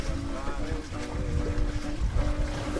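A boat moves across a lake at three knots, its engine giving a steady droning hum mixed with wind buffeting and water noise, with a voice talking over it.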